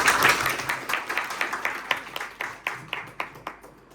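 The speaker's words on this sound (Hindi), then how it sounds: "बहुत बढ़िया, इनके लिए जोरदार ताली।" Scattered audience applause at a CPR first aid training session at a primary health centre, a run of separate claps that starts fuller and thins to individual hand claps over four seconds.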